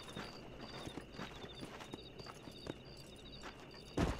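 Horse hooves clip-clop at a steady walking pace in the Red Dead Redemption video game, outside Armadillo, with a louder thud near the end.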